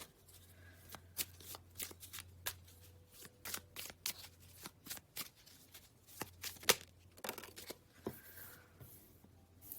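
Tarot cards being shuffled for a reading, a steady run of crisp riffles and soft slaps close by, with quiet gaps between bursts and no talking.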